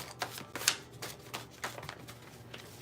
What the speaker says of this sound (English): So let's shuffle these up. They don't shuffle real well.